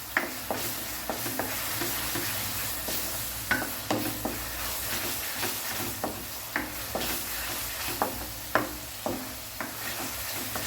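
Punjabi chicken gravy fries over a high gas flame in a pan, giving a steady sizzle with repeated scraping stirs at a fairly regular rhythm, close up and with no talking.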